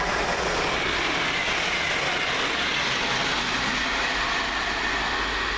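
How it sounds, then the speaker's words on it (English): The Cambridge train pulls into the station with a broad, steady rumbling roar and faint rail clatter, constant and fairly distant throughout with no voices. "Here also comes the Cambridge train."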